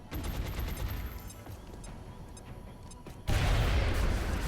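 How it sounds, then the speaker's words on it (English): In the XCOM Long War game, a thrown grenade ends in a sudden loud explosion burst that cuts in near the end after quieter rumbling and clicks. "Throwing grenade."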